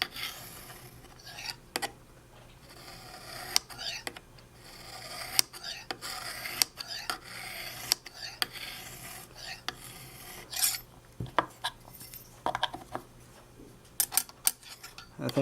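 Knife edge drawn across a hone in light strokes, a series of short, sharp scraping rasps at irregular intervals over a low background hum, fairly close.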